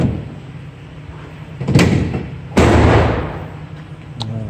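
The door of a 2017 Ford Transit T-150 van is worked by hand, giving a rumbling slide and then a heavy, close metallic thud, followed by a lighter click.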